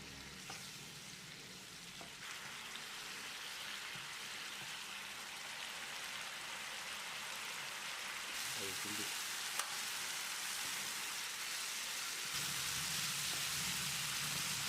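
Egg masala simmers in a pan after water has been added, giving a soft, steady bubbling and sizzling hiss with faint stirring clatter, low and continuous.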